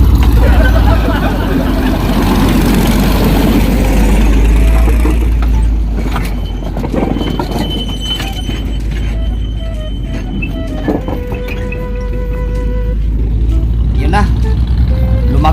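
A train passes close to a waiting vehicle at a crossing, giving a loud, continuous low rumble and clatter with traffic noise around it, while someone talks over it.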